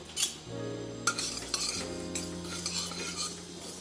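White and black mustard seeds and poppy seeds dry-roast in a pan. A spoon or spatula scrapes and taps against the metal close by, with a faint sizzle and a low hum underneath.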